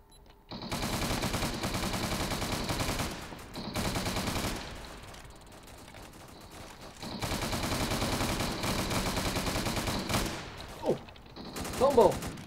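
Shotgun fire in the Roblox-style video game Prison Life, loud sustained bursts of gunfire separated by short pauses, with a couple of sharper blasts near the end.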